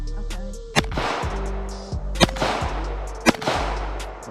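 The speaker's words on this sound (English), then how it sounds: "Shooting a little low." Three sharp gunshots from a Sig MPX submachine gun at a shooting range, spaced about a second apart, each loud and close with a short echoing tail.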